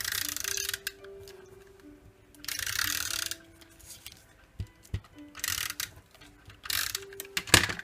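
A Stampin' Up! Snail adhesive tape runner rolls across card stock in short, close ratcheting clicks and dry rasping strokes, repeated in several bursts with quiet pauses between.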